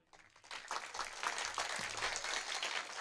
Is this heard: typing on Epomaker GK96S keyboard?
no